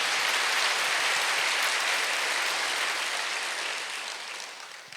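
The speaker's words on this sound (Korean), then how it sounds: "박수 한번 주세요" A church congregation at a Wednesday worship service applauds together, a broad, even wash of clapping that begins at full strength and gradually tapers off toward the end, with no voices above it.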